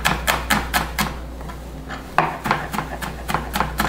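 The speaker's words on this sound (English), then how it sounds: "you can smash it if you want, and then just kind of mince it up" Knife mincing food on a cutting board: a steady run of sharp, close chops at about four per second, pausing briefly midway before resuming at the same brisk rhythm over a low constant hum.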